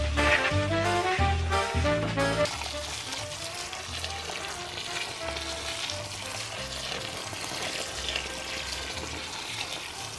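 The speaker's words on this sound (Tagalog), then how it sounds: "Maglagay tayo dito ng tubig para sa ating courgette." Water gushing and splashing steadily onto a courgette plant in a garden, a continuous close hiss that follows a few brief knocks at the start.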